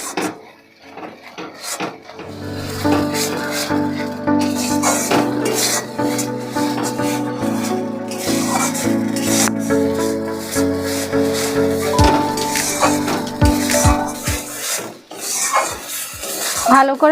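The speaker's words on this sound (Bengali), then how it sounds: "পোস্ত আর কাজু বাদামের পেস্টটা দিয়ে দেবো এবার মশলার সঙ্গে ভালো করে মিশিয়ে নেব" A wooden spoon works a poppy seed and cashew paste into spices in a kadai for brinjal posto, with continuous scraping and clattering against the pan over a steady tonal hum.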